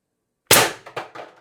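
A single close, sharp pneumatic shot from an IntruBuster Gen 2 launcher fed by a Critical Situations Titan IB-2 drum magazine at 8 grams, followed by a couple of quick rattling echoes that fade within a second.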